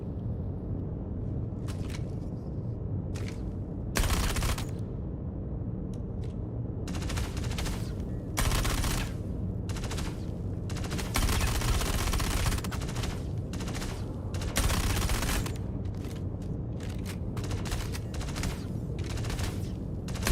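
Video game gunfire in repeated bursts, sharp cracking volleys spaced a second or two apart over a low steady rumble, fairly loud and close with no talking.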